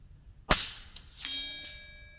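A sharp crack from an Fx DRS air rifle is followed moments later by a bright metallic ring with a sustained, fading tone, as the pellet strikes a steel gong target about 150 m away.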